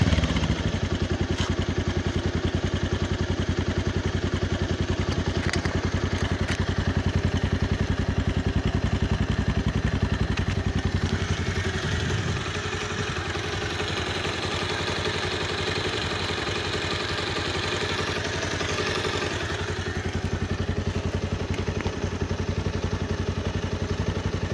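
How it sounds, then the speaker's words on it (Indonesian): A Bajaj Pulsar 180cc motorcycle engine runs throughout at a steady idle with a faint clatter, close and moderately loud, its tone shifting a little midway without any strong revving. "kita langsung aja test drive terhadap motor Bajaj Pulsar 180 cc ini"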